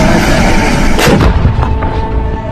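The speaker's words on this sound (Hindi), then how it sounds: "फिर तोपें गरजने लगी हैं" Artillery cannon fire in the Panjshir valley booms in a heavy, close blast with a rolling rumble that lingers behind it, among dense low battlefield noise and no talk.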